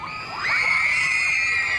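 A group of junior cheerleaders at a riverside festival shouts loudly together, the massed young voices swelling after a brief quieter start and holding at full, sustained volume.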